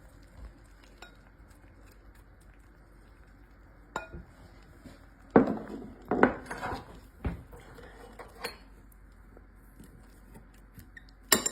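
A knife cutting through a soft baked potato side dish, with scattered quiet scrapes and several sharp clicks and clinks of the blade against a plate or board.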